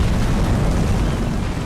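Siege artillery shells burst in an Empire Total War battle at a river crossing, producing a loud, continuous low rumbling roar of explosions with no pause.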